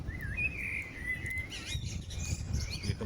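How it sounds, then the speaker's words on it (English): Birds sing in the New Forest, several clear chirping and whistled phrases overlapping at moderate distance over a soft outdoor background, with no talk. "You can probably hear the birdsong more than anything"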